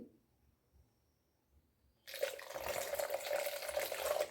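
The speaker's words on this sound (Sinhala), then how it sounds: "මේ විදිහට රඳවගෙන මේකට වතුර චුට්ටක් දාමු අපි" After a quiet pause, water suddenly begins pouring steadily into a plastic bottle, a close, continuous splashing gurgle.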